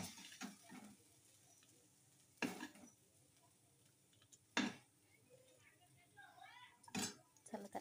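Bhindi (okra) fry is scraped from a pan onto a plate, with several loud metallic clanks and scrapes of a spatula against cookware, separated by quieter stirring and light clinks close by.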